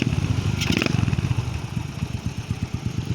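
A Suzuki Smash semi-automatic motorcycle engine runs steadily at close range, a rapid even pulsing idle with a brief mechanical clatter near the start and no talk over it.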